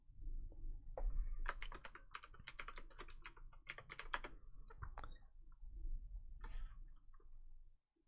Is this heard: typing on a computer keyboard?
yes